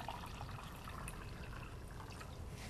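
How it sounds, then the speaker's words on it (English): Cold water pours steadily into a glass pitcher of tea, a continuous soft, hissing trickle heard close and alone for a few seconds. "In goes the cold water."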